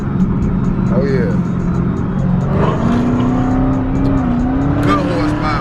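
An engine drones steadily, then rises in pitch as it revs up and holds a strained, wavering tone during quad bike stunts; someone talks over the noise.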